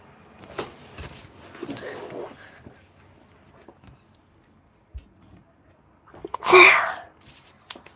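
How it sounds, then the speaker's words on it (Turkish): A single sharp sneeze bursts out near the mic, loud and abrupt after a stretch of faint rustling and soft breathy sounds. "Hapşırdım."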